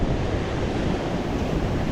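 Waves surge into a deep rocky gully beside a rocky point at Kei Mouth near low tide, making a constant loud wash of foaming water mixed with wind rumble on the microphone, with no voices.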